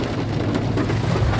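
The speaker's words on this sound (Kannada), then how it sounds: "ಜೋರು ಮಳೆ ಹಾಗೆ ಬರ್ತಾ ಉಂಟು." Heavy rain pours outside a car parked under a tree, a dense, unbroken hiss and drum that stays loud and even throughout.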